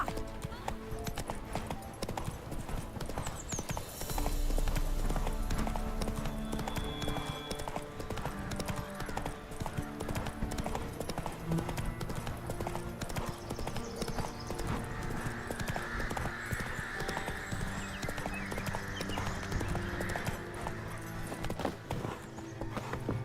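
A horse's hooves clip-clop at a steady gallop in The Witcher 3 video game, loud and continuous throughout, with brief spoken lines and an occasional whinny over the rhythmic hoofbeats.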